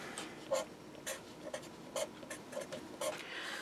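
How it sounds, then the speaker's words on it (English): Pen or marker writing out an equation on a surface, a series of short scratchy strokes at an uneven rhythm, close and fairly quiet, with no talk. "So let me write that."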